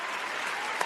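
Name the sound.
applause for the Delta workers' agreement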